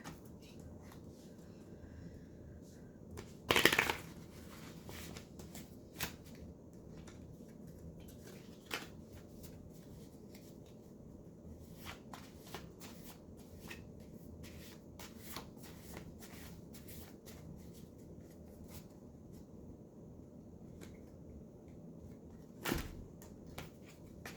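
A tarot deck is shuffled and split by hand, with soft, quiet riffling and rubbing of cards. Two sharper snaps mark the deck being cut, and the scene is otherwise hushed.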